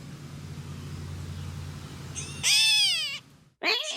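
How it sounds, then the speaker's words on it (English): After a low background rumble, a gray catbird gives two nasal, downslurred meow-like calls close up, with a short pause between them. "Catbird meowing like a cat."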